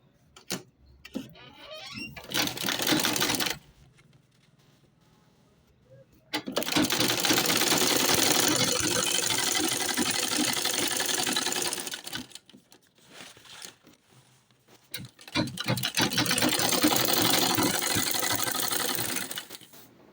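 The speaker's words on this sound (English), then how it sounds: "so you top stitch it and sew it round" A sewing machine top stitching around an Ankara cloth tote bag, running in loud close bursts of rapid mechanical chatter, stopping and restarting between pauses with quiet handling of fabric.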